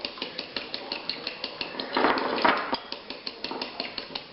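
A whisk beats egg wash in a bowl for a shrimp po'boy coating, quick regular clinks against the bowl that blur into a brief flurry midway before settling back into an even rhythm, close and distinct.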